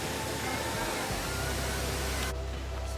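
Waimea waterfall on Oahu, Hawaii, running brown and swollen after rain, gives a steady broadband rush close by, with a sharp drop in the high hiss near the end.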